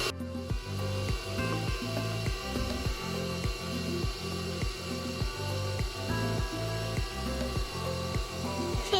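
A stand mixer stirs layer cake ingredients in its raised bowl, giving off a steady, rhythmic mechanical clatter that repeats several times a second at moderate volume, with no voices.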